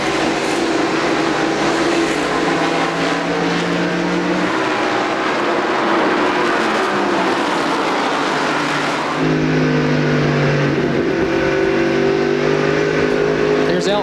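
NASCAR Busch Grand National Series stock cars racing at Indianapolis Raceway Park in 1997, engines roaring loud and continuous with rising and falling pitch as cars pass close, under a commentator's voice.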